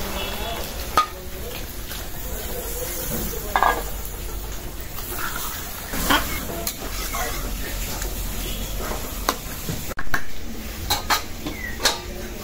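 Broth is added to taro cooking in a pan with potatoes and Malabar spinach, followed by stirring: a steady simmering sizzle broken by repeated scrapes and clinks of a utensil against the pan.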